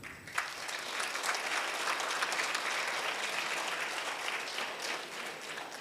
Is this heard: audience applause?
yes